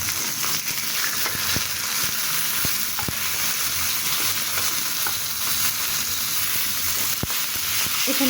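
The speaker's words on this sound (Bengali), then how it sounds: "অপর পিঠটিও আমি এভাবেই উল্টিয়ে নিচ্ছি।" Frying chicken pieces crackle steadily in a pan as they are turned to the other side, with sharp clicks of a utensil against the pan breaking through the close, even sizzle; nobody speaks.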